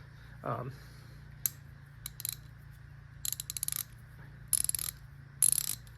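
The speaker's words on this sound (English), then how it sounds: "It's a quick release ratchet." A 3/8-inch quick-release reversible ratchet wrench clicks in several short bursts of rapid metallic ratcheting, close and crisp, separated by quiet gaps over a low steady hum.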